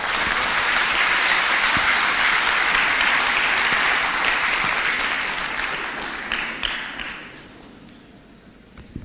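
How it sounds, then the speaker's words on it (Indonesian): A university lecture hall audience gives loud, sustained applause after a national lecture by a politician, a thick roar of clapping that holds for several seconds before thinning into a few scattered claps and fading out. "Tepuk tangan yang meriah bagi Bapak Ganjar Pranowo."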